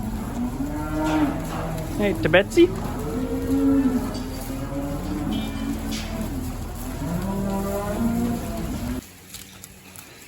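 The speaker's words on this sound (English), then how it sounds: "And there'll be some happy cows." Several loud, drawn-out dairy cow moos from close by in a barn after fresh bedding is spread, one after another, with brief barn noise and a short spoken greeting in between.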